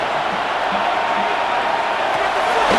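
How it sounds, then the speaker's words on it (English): Steady stadium crowd roar from a simulated NFL game between the Pittsburgh Steelers and Cincinnati Bengals in Madden NFL 26 on PS5, a continuous loud wash of cheering with no distinct breaks. "This crowd into it now as we get to 3rd down"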